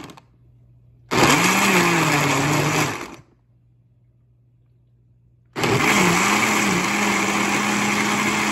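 Kitchen blender running loudly in two bursts, blending bell pepper and crayfish, a whirring motor roar that cuts to a low hum between runs, then starts again.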